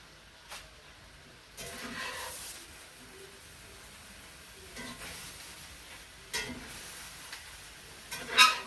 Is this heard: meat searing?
yes